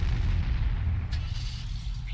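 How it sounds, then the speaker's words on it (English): Mortar and artillery fire in a Cold War strategy video game, heard as a dense, loud, continuous rumble of blasts close at hand, with no voices over it. "Took damage from the mortar."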